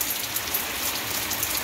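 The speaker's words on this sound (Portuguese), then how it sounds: "muita chuva aqui na cidade de Joaquim Gomes, Alagoas" Heavy rain pours down in the town of Joaquim Gomes, Alagoas, a dense, steady hiss of water hitting surfaces that stays constant throughout, with no voices.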